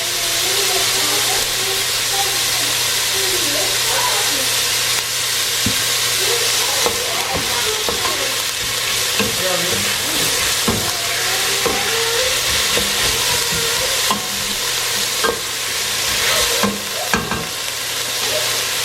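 Garlic and onion frying in a hot pan with thyme, a steady loud sizzle and hiss filling the whole stretch, with occasional faint stirring scrapes and no talking.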